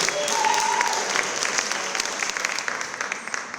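At the 2024 Stella Prize ceremony, an audience claps together in a dense, even wash that starts full and eases slightly toward the end, with a faint voice mixed in.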